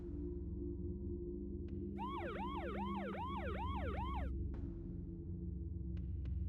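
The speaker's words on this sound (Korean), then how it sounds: "우렁찬 사이렌 소리가 들려온다." A police siren wails in a rapid repeating yelp, about seven sweeping cycles over two seconds, moderately loud above a steady low background drone, with a few faint clicks before and after.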